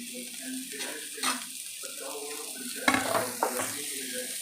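Yellow capsicum frying in a pan for white sauce pasta, a steady close sizzle with spatula stirring scrapes and a couple of sharper clanks near the end.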